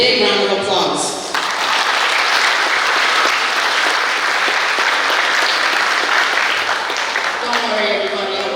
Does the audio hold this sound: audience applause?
yes